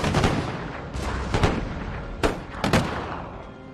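Puckle guns fire during a battle in the video game Empire: Total War, a series of loud, booming shots over a continuous rumble of battle noise.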